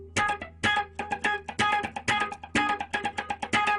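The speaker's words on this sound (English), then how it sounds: "that is the sound of a double track guitar" Crisp, choppy funk guitar riff with rhythmic muted strums in a tight repeating pattern, sounding thick and doubled, played alone at moderate volume.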